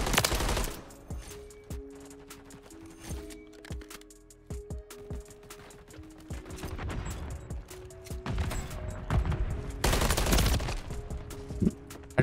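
Rapid automatic MCW rifle fire in the Modern Warfare 3 video game, repeated short bursts of gunshots with game effects and ambient battle noise in the background.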